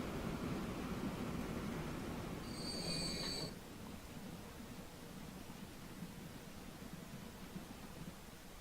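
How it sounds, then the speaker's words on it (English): Freight train in Transport Fever braking into a station, a brief high metallic wheel squeal over a low rumbling run, then the rumble settles and continues more quietly on its own. "I'm gonna stop that train in the station to help it spread out a little bit more"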